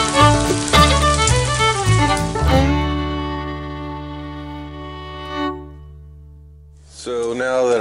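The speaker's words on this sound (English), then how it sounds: "Bacon is starting to render a little bit." Bacon sizzles in a cast iron pan, a busy crackling hiss at first that fades to a softer, steadier fry, with a person's voice and a clear harmonic tone over it near the end.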